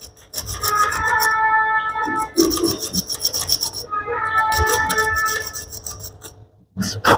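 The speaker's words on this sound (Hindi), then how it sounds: "अभी इसके अंदर ऐसे हमने इसको रगड़ना है, रेगमाल आपने डबल कर लेना है" Close, rhythmic rasping strokes of doubled sandpaper rubbed back and forth inside a soldering machine tip, with repeated scraping passes and short pauses, no talking.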